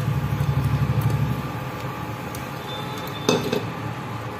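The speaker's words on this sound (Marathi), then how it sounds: "तांदूळ घातल्यानंतर छान त्याला परतून घ्यायचे 1-2 मिनिटांसाठी" A spoon scrapes and clinks against a pan as rice with masala is stir-fried, with busy metallic scraping early on, then quieter stirring and a sharp clatter near the end.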